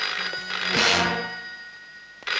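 A telephone rings with a bright, metallic bell tone, one sustained ring swelling and fading, then a short burst starting again at the end.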